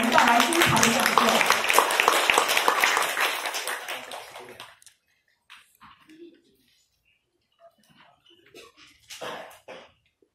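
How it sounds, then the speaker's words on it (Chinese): Dense, loud applause from a lecture-hall audience greeting a speaker at a talk on the century of change in Shanghai's Yangshupu district, sustained for about four seconds and then fading out, followed by sparse faint shuffles and murmurs. "下面就让我们以热烈的掌声欢迎薛立勇老师为我们带来精彩的讲座"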